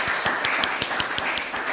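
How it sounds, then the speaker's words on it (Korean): A church congregation gives a short round of welcoming applause for visitors at a Sunday service, heard as a moderate, fairly even patter of many hands with distinct individual claps standing out in a regular rhythm. "우리 옆에 있는 분들 박수로 환영하겠습니다"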